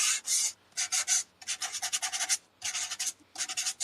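A small handheld sander lightly sanding the edge of a craft card, heard as quick raspy bursts of rubbing in short strokes with brief pauses, close and fairly soft, with no talking.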